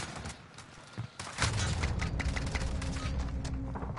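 A video game gun firing in a dense, continuous barrage, loud and close, with rapid repeated reports and booming thuds stacked into a steady roar after a few scattered opening shots.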